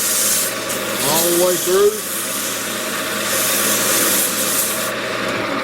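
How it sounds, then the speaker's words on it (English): A maple vase spinning on a woodturning lathe is power sanded, a steady close abrasive rub under the lathe's hum, with a brief spoken remark and a few squeaky tonal chirps from the sandpaper partway through. "I'll power sand with the lathe on with each grit"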